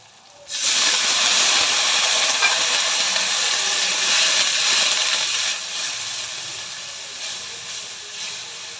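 Water is poured into a spice mixture of turmeric and cumin frying in a pan. It erupts in a loud hissing sizzle that holds for about five seconds, then settles into a quieter steady bubbling hiss. No voices are heard.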